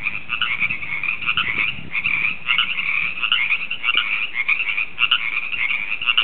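Frogs croak loudly in a continuous chorus of rapid, rattling calls, steady and close with no voices over them.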